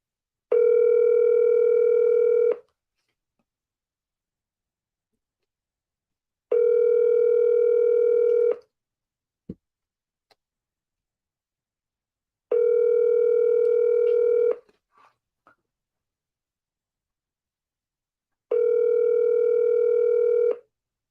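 An unanswered telephone call rings back with four evenly spaced steady tones about two seconds long, separated by silences, with a few faint clicks between them.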